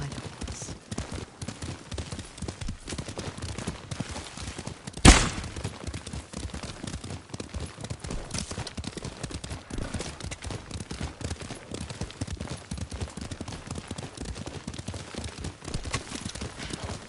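Horse hooves clip-clopping at a steady riding pace in a samurai-era video game, continuous and close, with a single sharp loud crack partway through and sparse speech.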